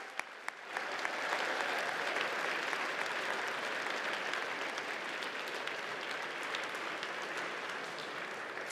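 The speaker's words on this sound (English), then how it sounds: "If we could have one more rousing round of applause for all of our award recipients today" An audience at a school honors day ceremony gives a sustained round of applause for award recipients, steady dense clapping throughout, heard somewhat distant.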